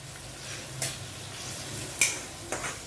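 Chilli powder, turmeric, coriander powder and homemade garam masala stirred into a sizzling frying pan for masoor dal with onion, with a steady fry hiss and a few spoon scrapes against the pan.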